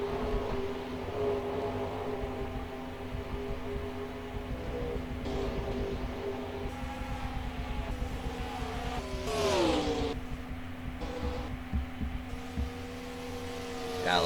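Race cars in a 2005 MG Cup Series race at Pocono hold a steady, loud, layered engine drone, with one car swelling past near the middle before the roar settles back to a constant hum.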